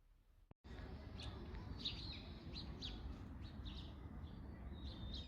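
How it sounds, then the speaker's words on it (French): Birds chirp and tweet in scattered short calls over a steady low rumble of background noise, fairly faint and at a distance. "mais d'entendre le son des oiseaux"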